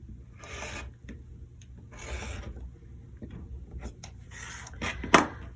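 A rotary cutter trims excess fabric from charm square half-square triangle quilt blocks on a rotating cutting mat, producing several rasping, scraping strokes in short bursts, moderately close, with a sharper snap near the end and no talking.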